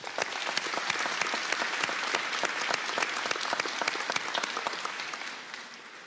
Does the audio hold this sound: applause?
yes